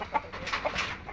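Indio Gigante chickens at a poultry farm, a few soft clucks and short bird calls in quick succession over faint background noise.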